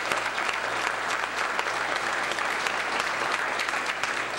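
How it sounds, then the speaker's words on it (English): An audience gives a round of applause at a community gathering, a full, steady wash of many hands clapping at close range with no pause. "And so we just want to give them a round of applause."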